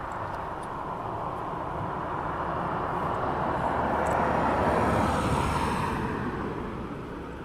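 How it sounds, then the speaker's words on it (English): A FedEx Boeing 767 taxis out at East Midlands Airport at night, a broad steady jet engine roar that swells gradually toward the middle and eases slightly at the end. "FEDEX 767 taxiing out."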